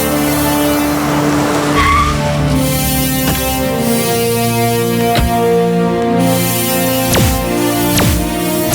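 A car brakes hard to a stop with a loud, sustained tire squeal and skid lasting several seconds, heard up close with no speech.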